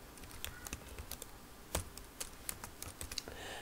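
Keys on a computer keyboard clatter in quick, uneven bursts close by, with a few sharper strokes standing out, while a Java project is named in NetBeans.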